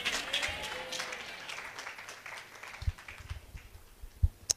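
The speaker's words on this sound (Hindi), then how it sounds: "वचन के प्रेमी तालियां बजा रहे थे।" An audience at a sermon applauds, scattered clapping that thins out into a few separate claps, with no one talking over it.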